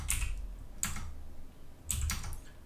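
Typing on a computer keyboard: three short clusters of clicky keystrokes separated by brief pauses, close and fairly quiet with no talking.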